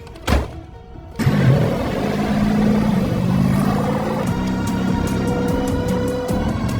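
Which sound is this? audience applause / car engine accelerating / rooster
car engine accelerating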